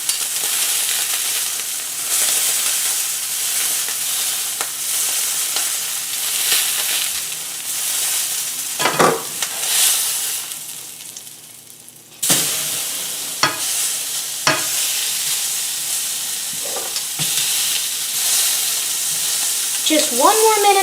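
Wagyu steak frying in a hot pan, a dense, steady sizzle and crackle that dips briefly when the meat is moved, then surges again, close and loud throughout.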